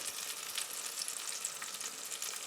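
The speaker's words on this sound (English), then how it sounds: "Very nice and slow reduction of the wine here." Red wine reducing in a skillet on a wood-fired kitchen stove gives a steady, soft sizzling hiss with fine crackling bubbles, close up and continuous, without talk.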